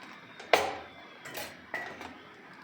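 Ghee-fried dry fruits are stirred into a cooking pot of milk, giving a sharp metallic clink followed by a few softer scrapes and taps, close and fairly quiet.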